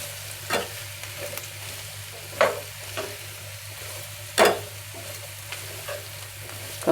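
Chopped chayote pieces stirred in a frying pan, a spatula scraping in a few distinct strokes over a steady low sizzle, with no talking.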